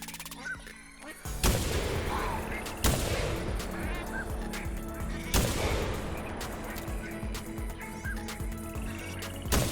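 Loud, sharp gunshots, about four spaced apart, fired at pintail ducks in the Call of the Wild hunting video game, with duck calls and quacking between the blasts.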